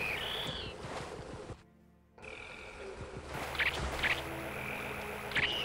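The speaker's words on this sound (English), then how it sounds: "Are those frog noises?" Frogs croaking in the video game AM2R: The Horde, rhythmic repeated croaks and chirps over a dense background, briefly cut off by near-silence, then resuming louder with sharp high calls, with no talking.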